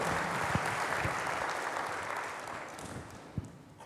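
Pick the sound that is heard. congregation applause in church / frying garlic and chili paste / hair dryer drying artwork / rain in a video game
congregation applause in church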